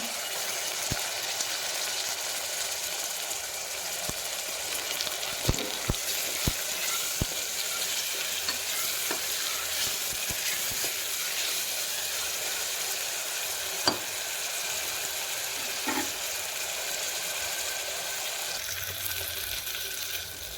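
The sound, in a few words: tomatoes being sautéed in a pan for green chicken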